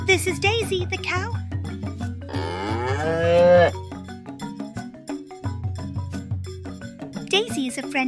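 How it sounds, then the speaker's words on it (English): A cow moos with a long, loud low call in the middle, set against a background of music and a voice speaking. "This is Daisy, the cow."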